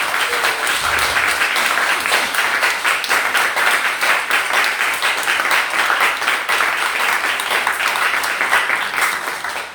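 Steady applause and clapping from a congregation at a Catholic Mass, dense and sustained for the full stretch, fairly loud and even.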